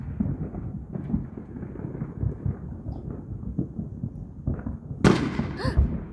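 Fireworks going off outdoors: a string of low, rumbling booms, then a sharp, bright crack and crackle near the end, moderately loud with no clear talking.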